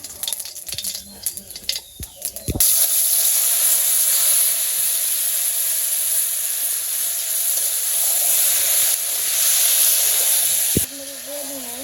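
Food is dropped into hot oil in a village kitchen. After a few clattering knocks, a loud, steady sizzling hiss bursts in and holds for several seconds before suddenly easing off.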